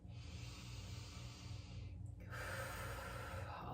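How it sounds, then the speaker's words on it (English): Slow, deep breaths during an anxiety-relief tapping exercise, heard close as a steady airy hiss with a brief pause midway before a stronger breath, over a low background hum, with no talking. "And just breathe."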